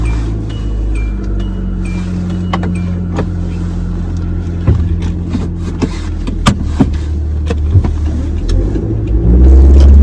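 A car driving toward a petrol pump in Canada, a steady low engine hum throughout with faint clicks and bumps, rising slightly louder near the end, no talking.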